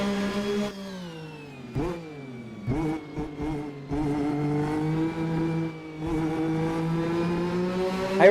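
A 1988 McLaren MP4/4 Formula 1 car in a racing simulator, its high-revving engine droning steadily, dipping during gear changes and clipped revs between about 1.7 and 4 seconds, then climbing loud and sustained through the final stretch.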